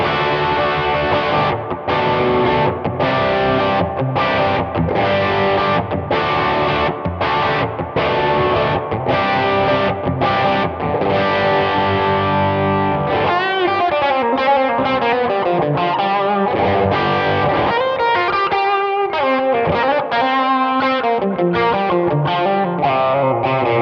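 An electric guitar on the bridge pickup plays through a Positive Grid Spark 40 amp with a Klon overdrive into an ODS 50 amp model, giving crunchy distorted rhythmic chords and then ringing sustained riffs, loud and continuous.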